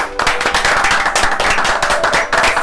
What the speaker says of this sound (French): Donc franchement, pour ça, bravo, on peut l'applaudir.